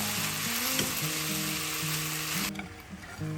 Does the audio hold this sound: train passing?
no